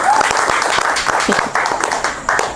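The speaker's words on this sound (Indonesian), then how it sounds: "Boleh kita kasih tepuk tangan lagi dong" An audience claps at a talk-show-style event with a SEA Games gold medalist, a short dense burst of applause filling the moment, with a host speaking over it.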